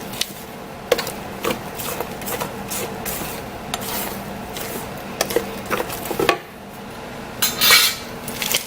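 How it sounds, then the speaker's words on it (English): Blueberry muffin batter with oat crumble being stirred in a bowl, the spoon scraping and knocking against the sides in uneven, repeated strokes with a brief pause partway through. "Just want to make sure everything is stirred in from underneath."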